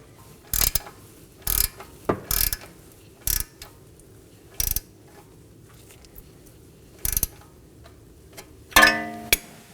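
A ratchet wrench snugs down the camber kit bolts and lock nuts on a 2015-2023 Nissan Maxima front suspension, with short bursts of sharp clicking spaced irregularly, close and loud, with no talking.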